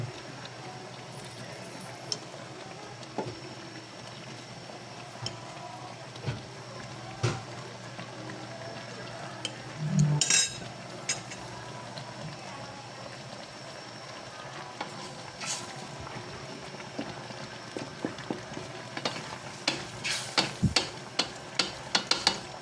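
A pot of tuna fish stew with string beans simmers quietly, a faint steady hiss of bubbling broken by scattered small pops and clicks.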